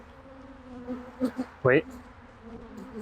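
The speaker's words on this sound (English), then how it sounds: "There are still a ton of bees right around this camera." Honeybees buzz close around a camera at a beehive, with faint buzzing passes that swell into one brief loud drone, and a voice speaks briefly.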